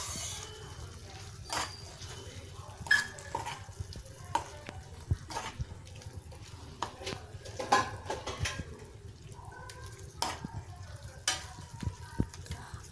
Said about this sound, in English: Now mix all the ingredients and fry it in the pan.